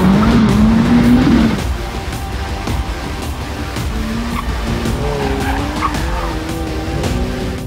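A 2020 Ferrari F8 Tributo's high-revving twin-turbocharged V8 howls past loudly on a track, drops briefly, then climbs through rising, wavering tones with tyre squeal at speed.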